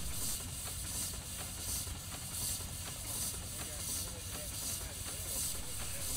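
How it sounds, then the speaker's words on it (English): Exhaust steam from a steam engine vents up the smokestack as a steady broadband hiss with faint rhythmic puffs, heard at moderate distance under a low rumble. "The exhaust steam is piped to the base of the smokestack and vented up the stack with the smoke."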